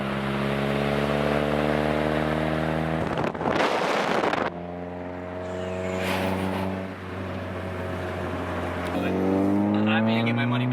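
An Infiniti Q50 engine with an exhaust silencer fitted runs steadily with a low, muffled exhaust drone, rising and falling in pitch as it revs, with a brief burst of wind noise partway through.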